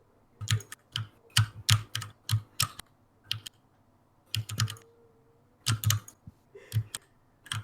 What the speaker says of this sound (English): There's some heavy duty typing going on.